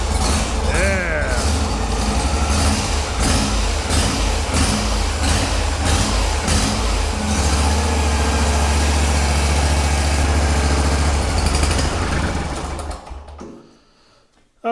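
A big garden tractor's newly swapped engine idles steadily up close, a constant low mechanical drone with a faster rattle on top, before it cuts out near the end. Someone speaks over the running engine.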